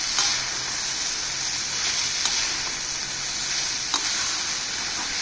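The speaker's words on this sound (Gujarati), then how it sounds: "પૌવા નાખી અને મિક્સ કર્યું." Poha, flattened rice for potato poha, is stirred in a pan on a low gas flame, a steady soft sizzle with occasional spoon scrapes and light knocks, close and continuous.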